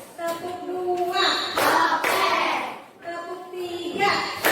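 Children in a classroom clap their hands in short rhythmic bursts during a call-and-response chant, several quick group claps interleaved with a teacher's spoken counting.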